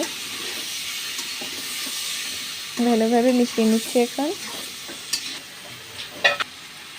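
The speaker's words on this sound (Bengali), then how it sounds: "এবার ভালোভাবে মশলার সঙ্গে মিশিয়ে নিচ্ছি।" Cubed potatoes stirred into fried spice paste for alur dom, a spoon scraping through the pan over a steady background sizzle, with someone speaking briefly partway through and a few sharp clinks near the end.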